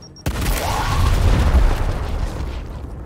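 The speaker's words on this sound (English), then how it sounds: "Throwing a grenade." A grenade detonates in a co-op video game, a sudden loud boom after a brief quiet moment, followed by a rumbling, crackling decay that lingers for a few seconds.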